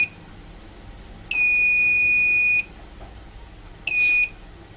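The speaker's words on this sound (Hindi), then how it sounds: "ये 20 वोल्ट पे बीप का आ गया।" A Microtek 24 volt inverter sounds its low-battery warning: two loud, steady electronic beeps, the first held for about a second and a half, the second shorter, over a faint background hum.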